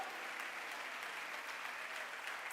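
A church congregation applauds in a steady, dense wash of clapping that holds evenly throughout, moderately loud, with no speech over it.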